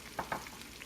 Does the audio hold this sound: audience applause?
no